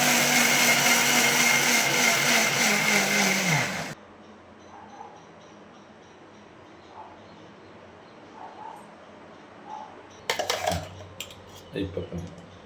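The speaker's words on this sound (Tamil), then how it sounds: "இப்போ அரைக்க போகிறோம். அதில் மிக்சரில் எடுத்து வச்சிட்ருக்கோம்." A mixer grinder grinding masala whirs loudly for about four seconds, then stops abruptly, leaving quiet room sounds with a few clatters and knocks afterward.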